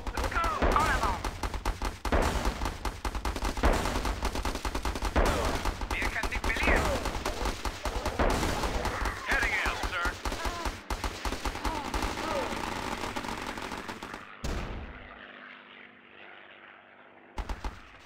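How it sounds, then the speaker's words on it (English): Sustained machine gun fire and bursts of gunfire in the Battle Islands: Commanders video game, loud and dense for about fourteen seconds, with game voices mixed in, then an abrupt drop to quiet. "MG searching for targets."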